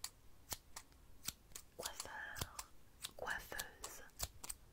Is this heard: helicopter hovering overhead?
no